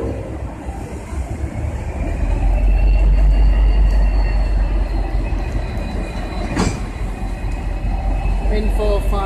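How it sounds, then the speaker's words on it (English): A heavy V/Line N class locomotive-hauled train departs the platform, rumbling steadily nearby with a deep low roar, a brief metallic screech cutting through midway. "Train on platform 3 now ready to depart."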